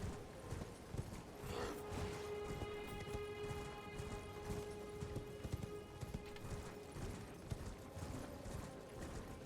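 In Elden Ring, the Night Cavalry's black horse gallops with a quick, fairly faint drumming of hooves that runs steadily under a low ambient hum, with a brief whinny-like cry near the start.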